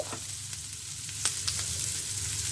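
Dried anchovies frying with onion in a pan, a steady close sizzle with a few soft stirring clicks throughout.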